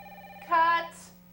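A cell phone rings on a film set, a short, loud electronic ringtone burst up close over a steady background hum.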